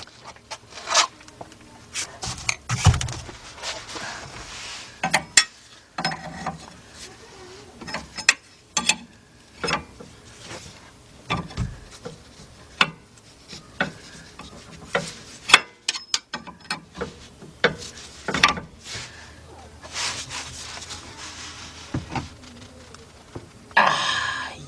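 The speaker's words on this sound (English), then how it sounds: "let's get our wrench up under there, and we're gonna tighten that up." Wrench tightening the front left inner tie rod on a 2002 Ford Explorer, quiet intermittent ratcheting clicks and metallic taps in short irregular bursts, close by with no talk.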